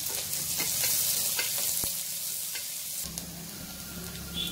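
Onions sautéing in a pan for millet sambar rice, a constant close sizzle with a few crisp spatula scrapes and clicks.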